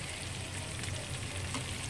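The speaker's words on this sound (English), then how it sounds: "Let your tofu pieces simmer in the hot sambal for a minute or so" Tofu pieces simmering in hot sambal on a stove, a close, steady crackling sizzle with no pauses and no voices.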